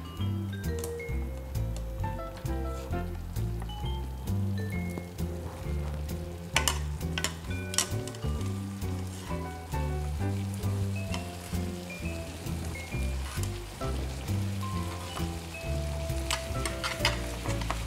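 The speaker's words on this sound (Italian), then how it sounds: "La pasta è pronta, andiamo a metterla in padella e a saltarla." Tagliatelle with guanciale and red onion ragù is tossed and stirred in a frying pan, giving a close, continuous sizzle with rhythmic scraping and occasional clinks of utensil on metal.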